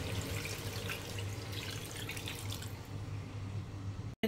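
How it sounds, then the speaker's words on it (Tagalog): Water pouring into a pot of chicken caldereta on the stove: a steady splashing rush runs for about four seconds and then cuts off abruptly, heard close with no talking. "Lagyan ko siya ng tubig. So, ayan yung tubig na ilagay ko."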